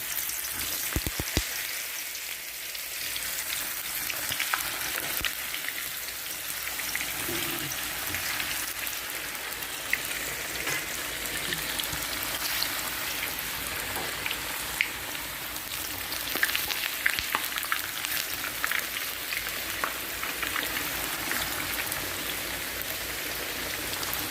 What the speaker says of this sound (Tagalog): Ngayon guys, ang isunod naman iprito is yung eggplant.